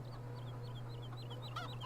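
Chickens cluck in a Farming Simulator 17 farm scene, a short run of soft repeated clucks over a steady low hum, with a brief louder squawk near the end.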